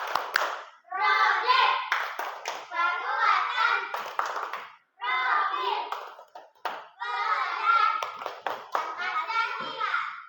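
Primary schoolchildren in a classroom clap together in a rhythmic chant-clap. Their young voices chant loudly and almost continuously in several bursts, with brief pauses between phrases.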